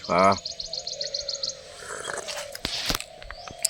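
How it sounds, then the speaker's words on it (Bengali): Birds chirp and call from several directions at an eco camp, a quick trilling burst up front followed by scattered tweets over quiet morning ambience. "চারিদিকে পাখির ডাক"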